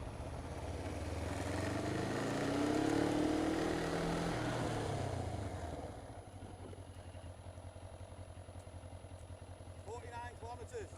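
Motorcycle engine during a rider training session, a steady loud drone that rises and falls in pitch through the first half, then settles into a quieter idle-like rumble. A voice talks over it.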